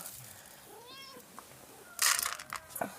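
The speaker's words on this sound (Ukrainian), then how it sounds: "Щоб ви розуміли, як наш котик просить їсти." A small house cat meows for food indoors in winter, a short rising mew followed by a louder, higher pair of meows, close by and fairly faint against a quiet room.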